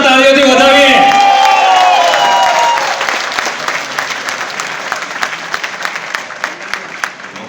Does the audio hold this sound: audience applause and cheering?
yes